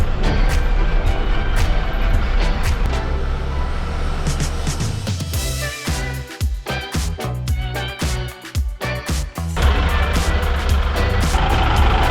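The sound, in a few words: truck moving a shipping container, reversing beeps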